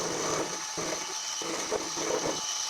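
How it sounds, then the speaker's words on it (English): Milling machine facing a Quorn Mk3 tool grinder base casting flat, a steady grinding cutter noise with repeated rhythmic pulses as the cut passes, continuous and fairly close. "I'll mill this flat before I'd start drilling the 3 holes"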